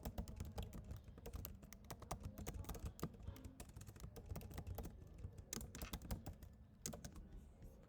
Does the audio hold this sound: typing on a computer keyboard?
yes